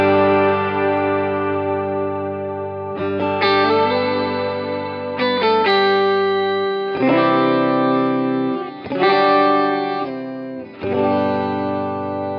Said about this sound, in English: So what that effect is doing, and what you get with the poly pitch, is you can move it in one direction.